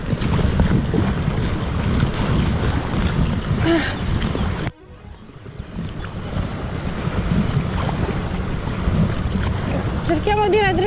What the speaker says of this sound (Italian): non becchiamo un motoscafo adesso, sta passando